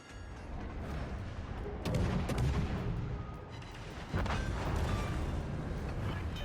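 Warship guns fire in World of Warships: Legends, two heavy booming salvos with rumbling tails over a dense, continuous battle din, loud and close, without speech.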